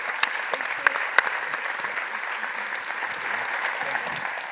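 Audience applause closing a panel at a Bitcoin and human rights conference in Washington, DC; steady crowd clapping with a few sharp individual claps standing out, holding an even level for several seconds without talk.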